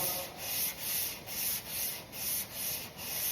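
Steady hand sanding of a car panel being prepped for paint, with rhythmic back-and-forth rubbing strokes, close and continuous, each stroke swelling and fading about twice a second.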